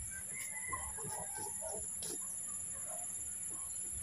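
Chickens cluck softly at a rural province farm, with scattered close clucks over a steady high insect drone and low background hum.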